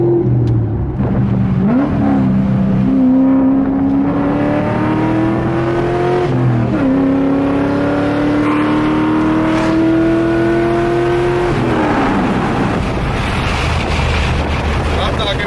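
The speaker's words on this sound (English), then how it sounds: "we're gonna get on the highway now and do a couple pulls for you guys, see how it runs" A C5 Corvette fitted with a Texas Speed cam kit accelerates hard on a highway, its V8 climbing through the gears with rising engine pitch, each shift dropping the tone, under heavy wind noise inside the car.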